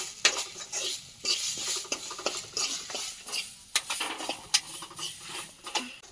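A metal spatula scrapes and clatters in a pan while river fish curry sizzles and fries, with repeated close stirring strokes over a constant hiss.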